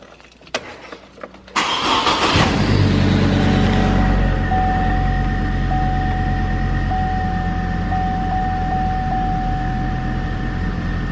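A 2008 GMC Canyon cranks for about a second and a half, catches, and settles into a steady, loud idle close by, with a chime tone ringing intermittently over the engine hum.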